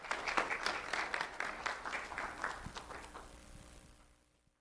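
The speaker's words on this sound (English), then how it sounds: "Let's have a round of applause for Melvin Garcia Tovar." Audience applause for Melvin Garcia Tovar, a 4th grader at Orange River Elementary, at a recognition ceremony: a dense burst of many hands clapping that fades out over a few seconds.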